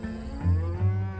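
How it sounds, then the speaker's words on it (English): Cattle moo outdoors on a grass-fed farm, two low drawn-out calls close together at moderate loudness, with no talk. "home to hundreds of thousands of cows."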